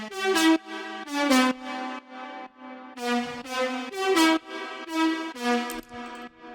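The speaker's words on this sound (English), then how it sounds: "search for some really big leads with a lot of reverb like this" Big future house synth lead drenched in long reverb, playing a bright, sustained melodic line in repeated phrases, with notes swelling and tailing off into the wash; loud and alone, with no talking.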